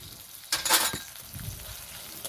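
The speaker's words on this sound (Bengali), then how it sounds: "ভালো করে নেড়ে চেড়ে কষিয়ে নেব।" Turmeric and salt sizzling in hot oil while being stirred for a rui fish curry, with ginger-garlic paste in the pan; a loud burst of frying near the start, then a lower, steady sizzle with scraping.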